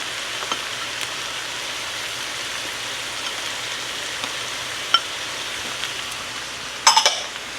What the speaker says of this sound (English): Trying to get the garlic going. Garlic. This is 4 cloves of garlic.